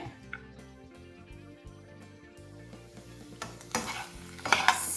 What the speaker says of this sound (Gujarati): બે ચમચીની મદદથી મિક્સ કરી લેવાનું છે